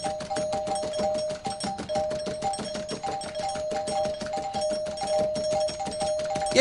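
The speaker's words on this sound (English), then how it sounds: "What the hell are you doing ringing our doorbell like that in the middle of the night?" An electronic doorbell chimes over and over in rapid succession, a steady relentless ringing that continues without pause for several seconds.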